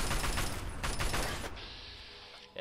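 Rapid turret gunfire in Fallout 3, a dense burst of loud, repeated shots that rattle for about a second and a half and then trail off into a fainter mechanical hum.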